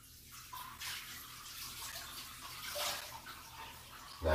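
Warm water runs from a bathtub tap while a pet is washed, a steady close rushing stream with small splashing shifts, ending in a sudden louder bump, no talking over it.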